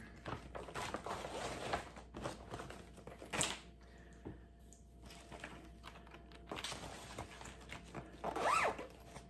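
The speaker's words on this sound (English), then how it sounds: "trying to close the zipper" A clothing zipper pulled closed near a crafting table: repeated close, scratchy ratcheting runs in uneven bursts, with brief pauses between pulls and a sharper final zip at the end.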